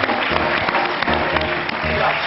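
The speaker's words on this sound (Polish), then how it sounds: "Wielkie brawa dla koleżanek." A television talk-show studio audience claps for female guests, a brisk, close burst of applause that holds steady throughout, with a faint murmur underneath.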